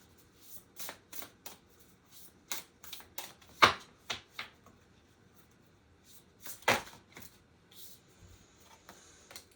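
Astrology cards are shuffled close up in a quiet room, making soft riffling flutters and a few sharper slaps as the deck is bridged and tapped, in uneven bursts.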